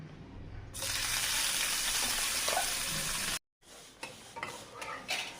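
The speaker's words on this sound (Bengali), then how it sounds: "তেল দিয়ে দিলাম। আমি পুঁটি মাছ ভেজে নেব।" Puti fish frying in hot oil in a home kitchen, a loud steady sizzle that runs for a few seconds, cuts out briefly, then comes back fainter with scattered crackles and pops.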